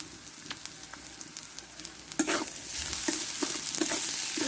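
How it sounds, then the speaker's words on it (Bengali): Coarsely grated boiled potato fries with garam masala and amchur powder in a pan, a low continuous sizzle broken by spoon scrapes and stirring taps that grow busier and louder partway through. "ভালোভাবে আলুটা আমি কষে নেব।"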